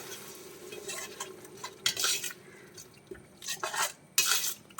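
Yogurt is stirred into mutton biryani masala in a pot, with bursts of wet scraping and spoon clatter against the pot over a faint low sizzle, growing louder in short strokes.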